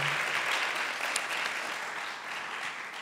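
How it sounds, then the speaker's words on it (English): An audience gives a round of applause for a speaker at a live university alumni event, a steady, moderately loud wash of clapping that slowly fades over three seconds. "Can we get another round of applause,"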